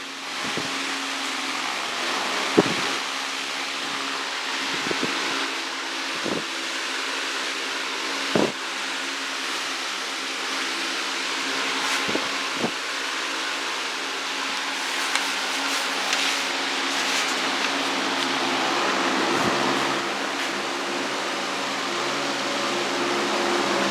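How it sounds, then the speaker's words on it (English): Cozy Breeze stand fan from 2018 running and blowing air, a steady broadband whoosh with a faint motor hum, close and constant, with a few scattered clicks and knocks. "That's a pretty good amount of airflow there."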